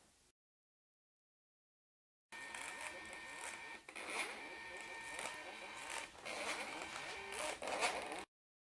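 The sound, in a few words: HPRT MT800 mobile A4 printer printing a page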